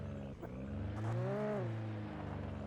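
A Jeep engine driven in the video game Alan Wake revs up with a rising then falling pitch. The steady motor drone runs throughout and swells to a peak in the middle.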